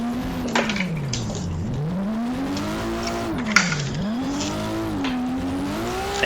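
Car engine in the Drift Masters racing game, revving steadily and rising and falling through drifts at Power Park, with faint tire noise and occasional bumps, loud and continuous without talk.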